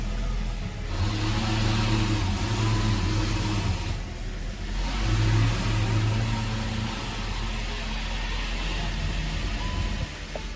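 A Volkswagen T-Roc with a 2.0 TSI petrol engine runs steadily close by for about ten seconds, with its pitch rising briefly as it revs and a continuous low drone throughout.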